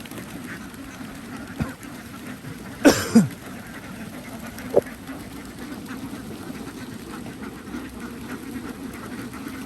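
Egg-laying ducks on a duck farm quack a few times against a low murmuring background: a short cluster of harsh quacks, then a single call a moment later.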